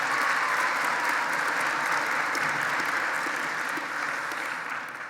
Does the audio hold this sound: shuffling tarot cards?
no